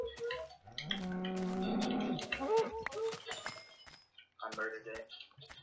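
A cow in Minecraft gives a drawn-out moo in the first couple of seconds, close and clear, while people talk over and after it.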